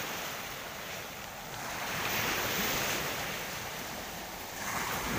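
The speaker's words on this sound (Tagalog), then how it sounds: "Medyo maalon ang dagat ngayon mga idol" Rough sea waves roll and wash continuously, with wind noise over the microphone and a gentle swell in loudness midway, no voices.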